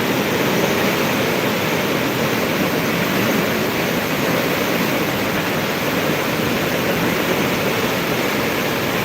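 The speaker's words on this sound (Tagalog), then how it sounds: "Magdamag, napakalakas pa rin ang ulan magdamag." Relentless heavy rain and deep, fast floodwater close to spilling over create a dense, constant roar, loud and even from start to finish with no talk.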